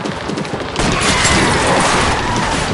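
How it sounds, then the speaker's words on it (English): Gunshots fired at a car's tires in the video game L.A. Noire, a dense, loud burst of shots that starts after a short lead-in and keeps up steadily for the rest of the moment. "I'll try to shoot out his tires."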